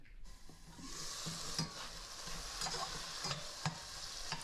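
Tomatoes cooking in a covered pan for a baked Italian sub sandwich, a quiet steady sizzle with scattered pops and occasional stirring clicks, close and without talk.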